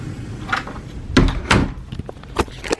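A bedroom door is opened nearby, with a few scattered knocks and clunks of the handle and wood, plus light rattles against a quiet room background and no talking.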